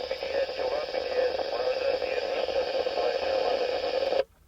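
VHF marine radio receiving a French transmission, with a compressed, band-limited voice over hiss from the speaker, continuous for several seconds before cutting off abruptly.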